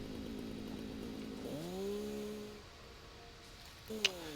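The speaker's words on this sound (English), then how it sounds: "Power up the chainsaw." Chainsaw being powered up to cut trees in Satisfactory: an engine idles, then revs up in a rising whine that holds and drops away, followed by a second short rev near the end.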